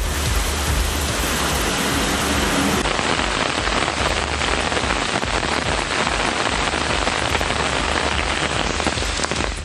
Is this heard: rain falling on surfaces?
yes